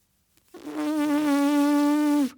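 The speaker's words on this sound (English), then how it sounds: "And you should feel a buzz start to happen." Beginner trumpet lip buzz made without a mouthpiece, the center of the lips loosened as air is blown through; a single sustained buzz lasting under two seconds, starting a little rough and then holding a steady, fairly loud pitch, alone.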